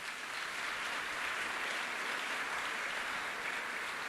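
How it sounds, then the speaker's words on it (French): A church congregation claps steadily and evenly after a sermon reading, a dense, continuous sound with no voices over it. "Acclamons la parole de Dieu."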